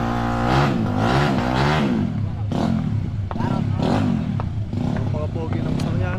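A motorcycle engine revs loudly and close by at a street exhibition, its throaty rise and fall running under steady conversation between men.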